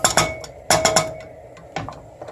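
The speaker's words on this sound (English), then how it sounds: "Then the asparagus and garlic that we minced right here. We're going to throw that in the pan." Minced asparagus and garlic tipped into a pan with clattering metal knocks and ringing clinks from the cookware, several sharp hits in quick bursts, close and clear with no talking.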